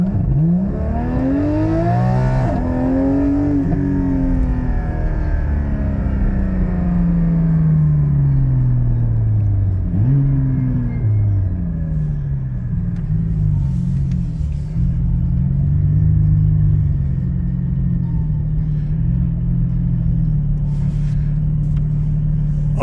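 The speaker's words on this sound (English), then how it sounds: "I'm going to let you hear this taking off." A Kia Soul fitted with a Soul Performance V2 exhaust with its valves locked open accelerates hard from a start, a loud rumbling engine note rising through several revs and gear changes, then settling into a steady drone.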